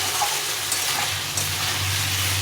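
Potato and elephant foot yam chunks sauté with spices in a pan, a close, steady sizzle and fry with faint stirring scrapes running unbroken through the short stretch.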